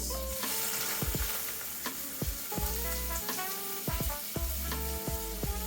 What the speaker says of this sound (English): now I'm going to give them a flip